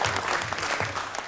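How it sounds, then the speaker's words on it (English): Short burst of applause at a city council work session, a room of people clapping steadily for about a second and a half, with a faint murmur underneath. "I'm going to applaud again."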